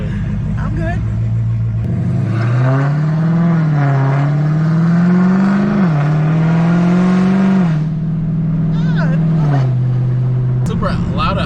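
A 1000-horsepower Dodge Hellcat roars from inside the cabin as it launches hard, its engine note climbing through a long pull, easing off, then surging again, loud and close.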